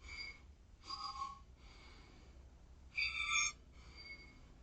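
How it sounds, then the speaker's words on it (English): Short sniffing breaths drawn in through the nose, done as a calming breathing exercise, come in quick quiet clusters with pauses between them, faint and close, with no talk. "you're going to do 3 short breaths in through your nose like sniffs and then 1 big breath out through your nose"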